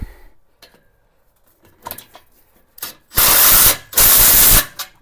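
A socket wrench tightens a bolt on a gate post, with faint handling clicks and taps first, then two loud bursts of rapid ratcheting, close and alone.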